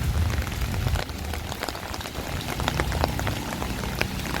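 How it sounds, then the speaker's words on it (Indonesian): Steady, dense rain hisses and patters on surfaces nearby, a constant even wash with no voices. "Hujan, hujan, hujan"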